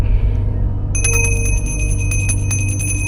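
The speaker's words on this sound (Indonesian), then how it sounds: "Ini lonceng ajaib." A magic bell rings with bright, sustained metallic tones that shimmer and repeat steadily for about two seconds over a constant low hum.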